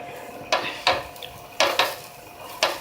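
A spatula scrapes and taps against a hot pan while rava uttapam is flipped, with several sharp metallic clicks and scrapes over a faint sizzle, close and alone.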